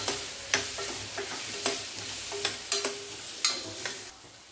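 Vegetables and spices stirred in a pressure cooker, faint sizzling under repeated scraping and clinking strokes at an uneven rhythm.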